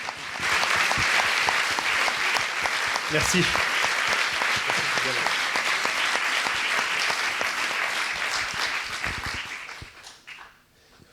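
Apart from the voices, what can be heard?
audience applause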